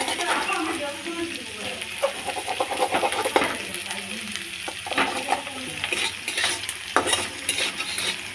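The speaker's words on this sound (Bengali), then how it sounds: "মাছের ডিম ভাজা হচ্ছে" Fish roe sizzles in a pan while a utensil scrapes and clacks through it in irregular stirring strokes, heard up close over a steady frying hiss, with faint voices in the background.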